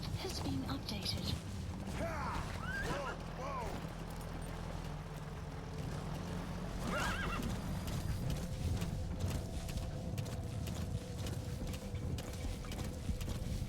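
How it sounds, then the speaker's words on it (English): A horse's hooves clop in a steady rhythm while someone rides in the Metal Gear Solid V: The Phantom Pain video game. Game effects and tonal sounds mix in, and voices talk over it. "Someone is riding a horse"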